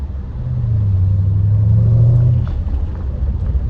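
A 2016 Range Rover Sport SVR with its 5.0 V8 pulls briefly under acceleration from inside the cabin, a loud, steady low engine drone that rises in pitch, then eases off into road rumble.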